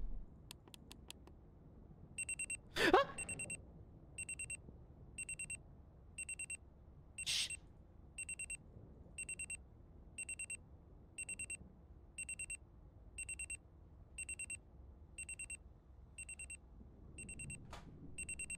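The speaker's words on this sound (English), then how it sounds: "That beeping's gonna be super annoying." A short electronic alarm beep repeats steadily at a regular rhythm throughout, loud and alone, in the Amanda the Adventurer video game, with a couple of sharper clicks early on.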